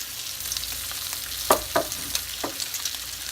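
Bacon frying in a skillet, a steady close sizzle broken by a few sharp scrapes and taps of a utensil against the pan and no voices.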